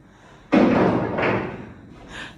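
A house door opens with a loud sudden thud, followed by a softer second knock of the door moving and a faint light rattle at the end, heard close up in a home with no talking.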